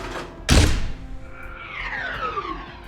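Cut Titan mortar ordnance effect from the game Titanfall: a heavy, booming launch thump followed by a descending whistling whine that trails off, loud and close.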